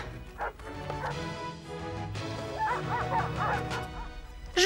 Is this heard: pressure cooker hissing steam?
no